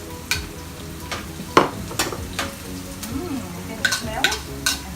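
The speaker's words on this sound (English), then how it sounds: "try to stir fry the onions in the pan" Onions and chopped garlic are stir-fried in a pan, a close, steady sizzle with repeated scrapes and taps of the utensil against the pan as they are stirred.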